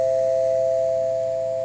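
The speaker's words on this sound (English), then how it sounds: "That is the US dial tone." A US telephone dial tone generated in GNU Radio holds as a steady, loud two-frequency hum under a faint hiss of background noise, unbroken for its whole length.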